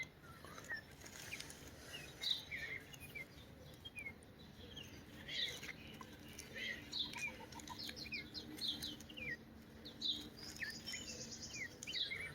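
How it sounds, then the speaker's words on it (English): Birds sing and chirp through a quiet morning outdoors in a garden, many short scattered calls from several birds at moderate distance over a faint, steady background. "This is usually just birds away in the morning."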